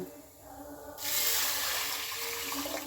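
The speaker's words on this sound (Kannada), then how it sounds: "ನೀರು ಹಾಕ್ಕೊಬಿಡೋಣ" Water pours into a cooking pot of horse gram for a village-style curry, with a steady, hissing gush that starts abruptly after a quiet moment and continues close by.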